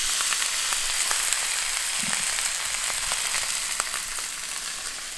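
Beef for chipotle barbacoa sears in a hot pan, a loud continuous sizzle and hiss with scattered crackling pops, two pieces cooking at a time.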